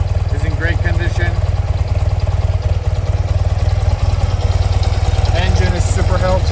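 A BMW R80 RT touring motorcycle with 77,000 original miles idles steadily nearby, its loud, even, rapid thump continuing throughout, while voices are faintly present.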